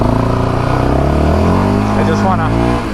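A 2024 Yamaha Raptor 700R SE ATV, stock and in break-in, idles and revs close by with a loud, throbbing single-cylinder note and a whooshing puff of air from the AIS, while someone talks over it.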